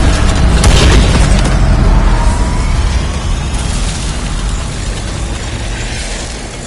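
Grenades from the War Machine launcher go off in Cold War Zombies, giving heavy, loud booms that run together into a long, rumbling roar and slowly fade. No one speaks over them.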